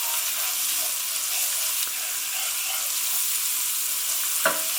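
Garlic from a whole medium bulb fries in a pan with a steady, close hiss and crackle, running continuously with a small spoon or spatula knock near the end; no one speaks.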